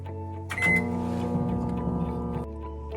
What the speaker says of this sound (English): I'm going to close my microwave and I'm going to microwave this for 30 seconds